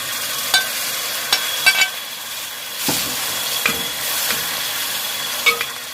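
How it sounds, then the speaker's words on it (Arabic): Tomatoes, about a quarter kilo, sautéing in a pan for Saudi chicken kabsa, giving a soft steady sizzle with a few sharp utensil taps and scrapes scattered through. "ابقى احمس بيها لحد ما ينزل ميها"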